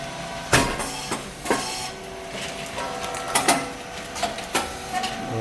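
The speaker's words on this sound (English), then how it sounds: "Rice cake machine SYP4509. Normal type, titanium coated mold for Guatemala." A rice cake machine, model SYP4509, running with titanium-coated moulds in its normal type setup, gives off repeated sharp mechanical thumps and clatters over a steady whirring hum, close and fairly loud.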